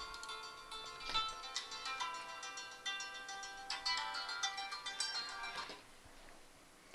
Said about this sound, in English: Oh, perfect. Phone call.